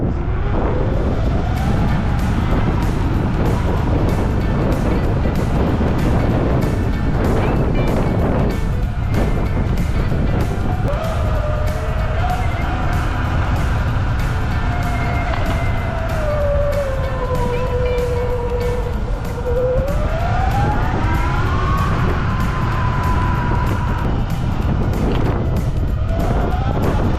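A 79Bike Falcon Pro electric bike rides in drive mode, making a loud continuous rush with an electric motor whine that climbs and falls in pitch for nearly half a minute, with no clear talking.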